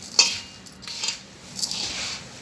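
A spoon clinks and scrapes against a metal bowl while dry chakli spice ingredients, including red chilli powder, are mixed by hand in a home kitchen. A few light taps and rustles sound close by, with no talk.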